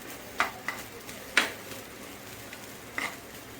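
Pappadam frying in a pan for a pappadam curry gives a soft sizzle broken by four or so sharp stirring scrapes, quiet and close.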